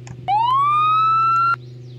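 In Roblox, a sheriff's patrol car sounds a single wail: one smooth rising siren tone that holds for over a second and then stops sharply over a faint steady hum.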